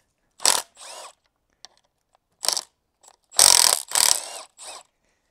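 A hand ratchet works on fasteners while the hose guides come off a Suzuki DR650 motorcycle, giving several short, close clicking bursts separated by quiet pauses, with no talking.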